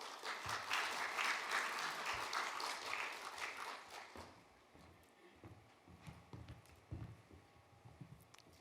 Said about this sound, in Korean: 따뜻한 박수로 맞이해 주시면 감사하겠습니다